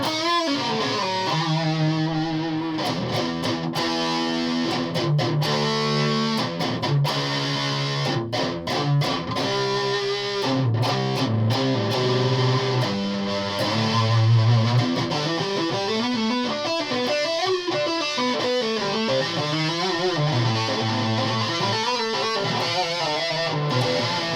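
A heavily distorted electric guitar through a germanium fuzz pedal plays a melodic line of sustained notes and bends, fuzzy and saturated yet with each note still distinct, no voices.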